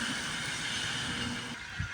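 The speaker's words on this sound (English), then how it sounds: "we got a CPKC train coming down the line" A CPKC freight train rumbling steadily along the line on a rainy morning, a continuous broadband roar with rail noise close by, easing slightly near the end.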